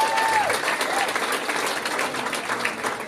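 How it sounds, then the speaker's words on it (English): Audience applause fills the room at a charity benefit show, a dense, steady wash of clapping and crowd noise with a brief whistle near the start. "Give yourselves a round of applause."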